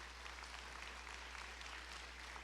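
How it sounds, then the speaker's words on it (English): A commencement audience claps for a graduating student in a steady wash of applause that sounds faint and distant over a constant low hum. "Another a round of applause for this well-deserving student."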